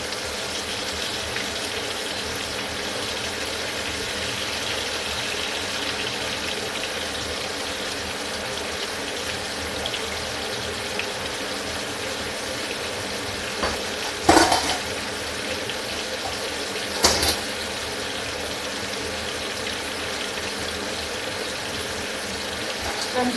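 Water running steadily from a tap while hands are washed and a kitchen is cleaned up, a constant rushing flow with two brief louder splashes or clatters midway.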